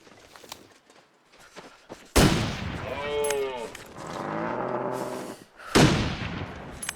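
A rifle fires at a moose in The Long Dark in two loud, sharp, close shots a few seconds apart, and a bellowing animal cry rings out between them.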